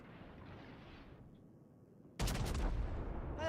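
In World of Warships, a heavy naval gun salvo booms from the German battleship Kaiser. A quiet engine-like backdrop gives way to a sudden loud blast that rumbles on for over a second.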